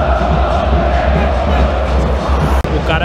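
A dense, loud roar of Rosário football supporters packs a stadium in Porto Alegre during a match, continuous crowd chanting and shouting with no break, heard from within the stands, with a commentator's voice faintly mixed in.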